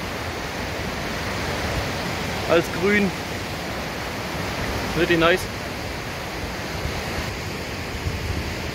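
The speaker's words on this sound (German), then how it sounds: "Der Bach fließt hier." A mountain stream in the Kleinwalsertal, Austria, rushes steadily as a broad, continuous wash mixed with wind, while a voice speaks briefly twice over it.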